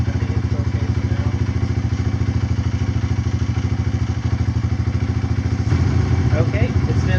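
A dirt bike engine, a KLX140 with a KX65 carburetor newly installed, idles steadily with a rhythmic, thumping putter, close and loud, revving slightly near the end.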